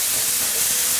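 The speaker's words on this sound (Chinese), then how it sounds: "稍微给它炒一炒。" Ginger and garlic slices with red and green cherry tomatoes stir-frying in a little oil in a wok, giving a steady, loud broadband sizzle and hiss without pause.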